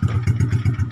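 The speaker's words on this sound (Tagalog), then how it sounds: "I-warm up jud nato ang atong mga makina mga idol kay importante" An old motorcycle engine warming up at idle, a steady, close, chugging beat with regular pulses about six times a second and a faint metallic clatter over it.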